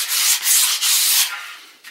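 Coarse 50 grit sandpaper rubs over a wooden bow limb in a few brisk back-and-forth strokes, a loud close rasping scratch with no voices.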